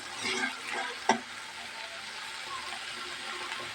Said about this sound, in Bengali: আলুটাও পেলে একটু হলুদ দিয়ে ভেজে নিচ্ছি